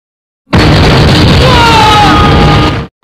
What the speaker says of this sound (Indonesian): Bagawan dan putranya Munna pun selamat dari ledakan